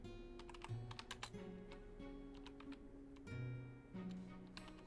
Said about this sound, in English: I'm typing so slow today.